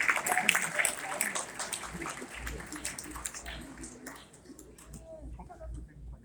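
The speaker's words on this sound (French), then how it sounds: "On va applaudir." Audience applause at a school diploma and national prize ceremony, a dense patter of many hands that is loud for about four seconds and then thins and fades, with some voices underneath.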